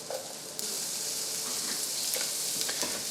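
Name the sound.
bell peppers sautéing in butter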